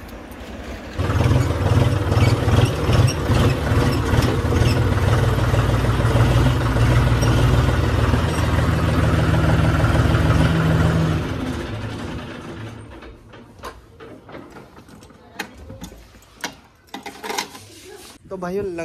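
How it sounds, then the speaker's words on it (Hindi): An old tractor in poor condition, being moved aside, runs with a loud, steady low engine rumble for about eleven seconds, then cuts off, leaving scattered clanks and knocks; someone talks over it. "तो भाइयों लगा दिया अपन ने ट्रैक्टर को साइड में"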